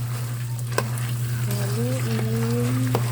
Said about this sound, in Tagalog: Halo lang ng mani. Haluin ang mani. Hanggang sa maluto.